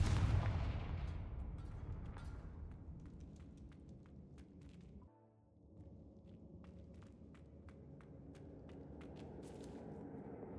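A Confringo fire spell blast in Hogwarts Legacy: a heavy, close boom that rumbles and fades, followed by scattered crackling pops and quieter background rumble.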